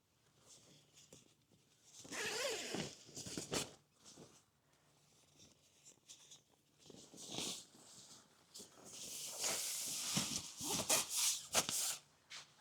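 A zipper being done up on a TAS pole hoop bivi, a faint, close series of rasping pulls in uneven bursts with quiet handling rustles between.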